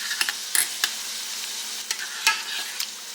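Quick grits cooking in a pot are stirred, with soft scraping and light clicks of the spoon against the pot over a faint steady hiss, fairly close and quiet.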